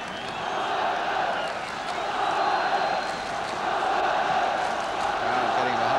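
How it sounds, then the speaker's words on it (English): A large football stadium crowd roars steadily behind Tottenham late in a match against Everton, a broad continuous swell of voices with faint chants rising and falling, distant and unbroken. "Crowd getting behind Tottenham really now"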